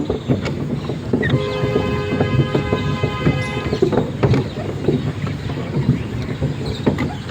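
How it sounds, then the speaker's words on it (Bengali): A train approaches with a steady rumbling roar and a sustained horn-like tonal blast partway through, heard amid clattering, windy outdoor noise without speech. "ওই ট্রেনটা আসছে।"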